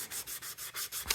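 Knife handle scales are sanded by hand in quick back-and-forth strokes, about seven rhythmic rasping rubs, close and fairly quiet.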